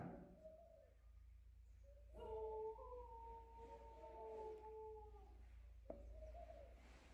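Dogs howl in the distance, long wavering tones overlapping one another, faint over a low steady rumble.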